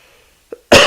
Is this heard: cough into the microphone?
yes